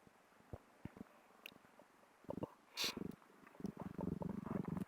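Faint, close newborn kitten sounds: soft mews and squeaks with scattered rustling, quiet and intermittent.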